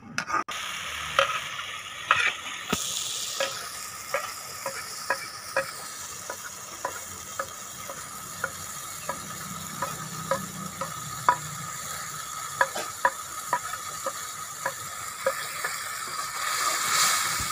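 Egg macaroni with chicken powder, garam masala, crushed red chilli and salt sizzling in a pan, with a steady soft fry under repeated sharp clicks of a spoon stirring and scraping, close by and without talk.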